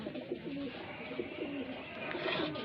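Highflyer pigeons coo softly in a loft, with several low, rolling calls overlapping at a modest distance over a quiet background.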